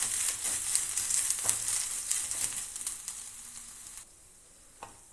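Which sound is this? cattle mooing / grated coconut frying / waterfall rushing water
grated coconut frying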